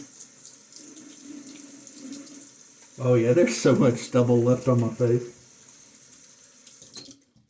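Water runs steadily from a bathroom tap during a shave, a soft continuous splash, with someone speaking over it midway before it cuts off.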